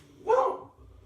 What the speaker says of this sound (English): My dog's about to start barking at someone.